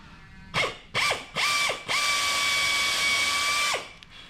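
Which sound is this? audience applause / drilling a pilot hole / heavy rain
drilling a pilot hole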